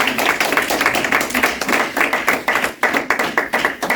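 Church congregation clapping together in a loud, steady rhythmic beat of sharp claps, close and dense with no talk.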